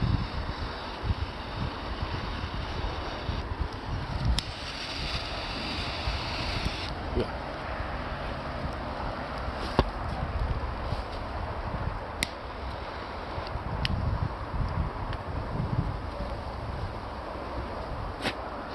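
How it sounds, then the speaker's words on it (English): Gusty outdoor wind buffets the microphone in steady low rumbling bursts throughout, with occasional clicks and ticks, while someone talks intermittently over the noise. "apologies about the wind"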